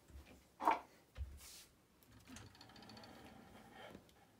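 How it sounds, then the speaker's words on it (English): A long arm quilting machine on a frame ties off a stitch and brings up the needle, heard as a short series of soft mechanical clicks and thumps, quiet and close, with no talk. "So we're gonna tie off and bring up needle."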